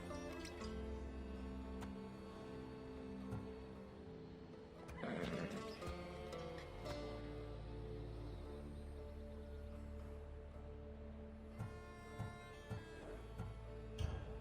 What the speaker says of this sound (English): Little do you know that this is Hades' horse.